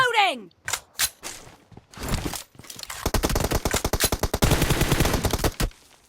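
Rapid automatic gunfire from the mobile battle royale game PUBG Mobile, a few separate shots early, then dense sustained bursts of loud cracking rounds lasting several seconds, with no talk.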